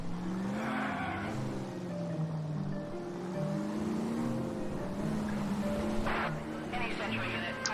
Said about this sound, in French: Apparemment on a aussi un nouveau véhicule. La Nash Super 600.